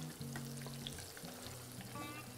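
Broccoli florets deep-fry in hot oil, giving a continuous crackling sizzle with light stirring clinks, close and steady throughout.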